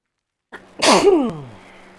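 A single sharp sneeze bursts out close by from someone present during a Palworld gaming session, starting with a short inhale and trailing off quickly in otherwise quiet surroundings.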